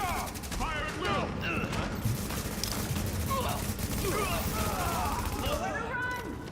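Heavy gunfire from The Division video game, with sustained bursts of automatic weapons and rattling volleys packed tightly together at a loud level, running continuously beneath shouted team callouts.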